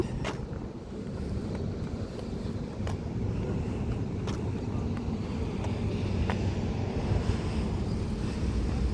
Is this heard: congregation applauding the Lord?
no